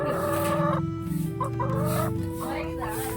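A hen clucks repeatedly at close range in a village home, with rhythmic clucking calls that run on for a few seconds amid busy household background.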